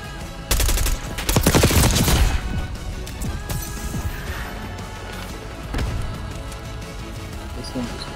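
Automatic AK rifle fire in Black Ops 6, a loud burst of rapid shots with sharp cracks, then quieter scattered gunfire and game noise, with players talking over it.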